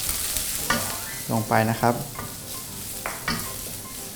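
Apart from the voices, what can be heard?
stir-frying Sichuan peppercorns in a pan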